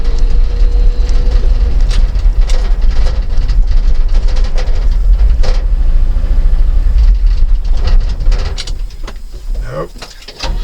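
An old car engine labors loudly up close with a deep, rumbling low drone as the driver tries to shift into higher gears, accompanied by rattles and clunks from the cabin throughout.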